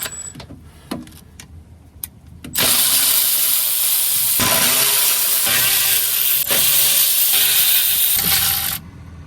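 After a few sharp clicks, a power tool loosens the oil pan bolts on a Toyota RAV4, giving a loud, continuous hissing whir for several seconds with brief dips before cutting off.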